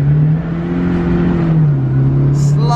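A car speeds along a road with a loud, steady engine drone whose pitch dips slightly midway, heard from inside the vehicle and close, with faint brief sounds near the end.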